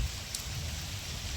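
Soft, steady rain patters at a distance on a day after summer vacation, a faint continuous hiss with a low rumbling undertone and no one talking.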